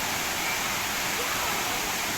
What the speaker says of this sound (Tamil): அருவி தண்ணி எப்படி ஊற்றுது பாருங்க